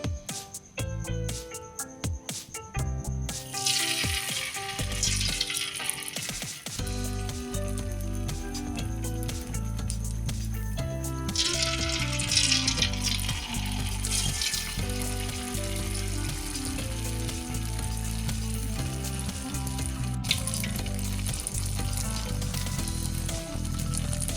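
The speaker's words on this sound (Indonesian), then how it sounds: "Kalau minyaknya sudah panas, sekarang kita goreng pemirsa." Vegetable fritters (bakwan sayur) fry in hot oil in a wok, with dense, steady sizzling and crackling close by, growing louder and busier as more batter hits the oil.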